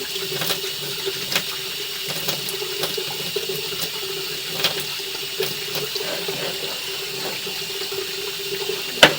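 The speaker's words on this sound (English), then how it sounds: "also watch the water flow a little bit" Steady running water from a tap, a continuous even hiss with faint clicks and splashes, close by and alone.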